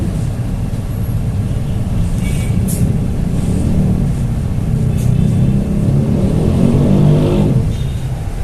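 An S22 bus passes on a toll road by Jalan TB Simatupang on a Sunday morning, a loud, steady engine roar and traffic rumble swelling slightly as it goes by, with no one talking.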